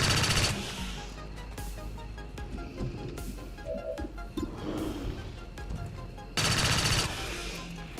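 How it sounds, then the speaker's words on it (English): Pistol fire in the XCOM 2 turn-based strategy game, a couple of loud sharp bursts at the start and near the end, with quieter game sounds between. "We'll just fire the pistol."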